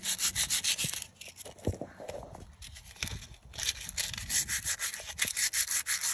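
Hand sanding a VW Transporter alloy wheel with 150 grit sandpaper: rapid rhythmic back-and-forth rasping strokes, close and loud. A quieter, more irregular stretch of rubbing falls in the middle.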